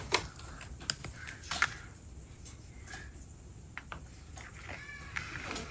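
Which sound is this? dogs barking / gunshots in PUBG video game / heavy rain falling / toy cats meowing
toy cats meowing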